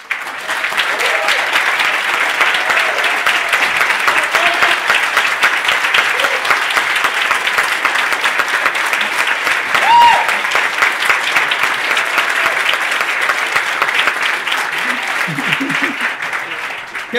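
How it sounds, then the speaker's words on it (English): A community lunch audience at a housing discussion applauds a guest named Kevin: a steady, dense wash of many hands clapping that runs unbroken for about seventeen seconds at even loudness, with a faint voice or two underneath. "So let's give a round of applause for Kevin."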